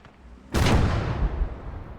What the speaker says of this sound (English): Throwing nades over. We're throwing nades.